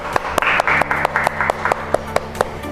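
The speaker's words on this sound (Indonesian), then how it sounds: "tepuk tangan dulu dong buat Danen" An audience at a children's reading club claps for a young participant, with distinct rhythmic claps standing out over a continuous bed of applause.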